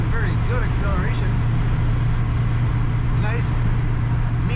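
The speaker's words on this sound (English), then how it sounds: "Nice mean sound to that exhaust." Exhaust of a 1955 Chevrolet 3100 pickup with modernized suspension, cruising around 55 mph at roughly 1500 RPM: a steady, deep rumbling drone holding throughout with road noise, while a voice talks over it.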